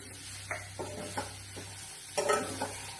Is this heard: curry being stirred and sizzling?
yes